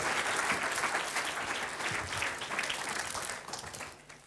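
An audience applauds steadily, a dense wash of many hands clapping that fades slightly toward the end.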